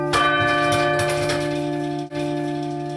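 Heavy stationary bells of St Colman's Cathedral in Cobh, struck by hand with moving clappers, ring out loud and sustained, layered tones hanging in the air with a brief dip before the ringing continues.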